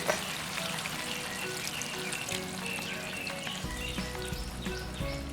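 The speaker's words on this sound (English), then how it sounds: "Next I am adding 1 cup of coconut milk" Coconut milk poured into a pan of frying spicy Kerala crab masala, with a steady, close sizzle and bubbling crackle running throughout and a deeper rumble joining near the end.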